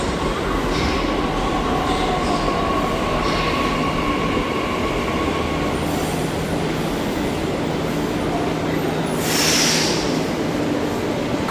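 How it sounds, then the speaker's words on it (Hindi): A Delhi Metro train running with a loud continuous rumble and rail noise, a faint squeal rising near the end, no voices. "और यहाँ पर मैंने चलाई मेट्रो।"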